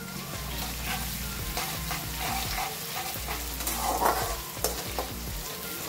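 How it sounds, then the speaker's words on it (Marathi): Onion with ginger-garlic paste sautés in a hot pan, a loud, close, continuous sizzle broken by repeated scraping stirs of the spatula. "1-2 मिनिटे आपल्याला हे परतवून घ्यायचं आहे. यामधील लसूण व आलं लालसर होईपर्यंत आपण हे परतवून घेऊया."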